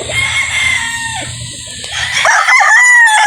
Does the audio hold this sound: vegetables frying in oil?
no